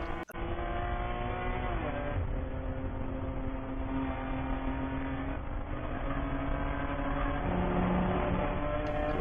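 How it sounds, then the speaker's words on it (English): Toyota Supra race cars run in an eight-hour endurance race at Barber, with a sustained roar of engines passing and shifting throughout, heavy and continuous from near the track. "The white, orange, and purple Supra of A Victory comes through, clears all 3 GP1 cars"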